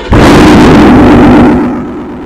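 A Ford F150 Platinum fitted with a JLT cold air intake and Borla Attack exhaust roars hard from close by, a loud sustained blast that fades into a lower rumble, recorded near the tailpipe.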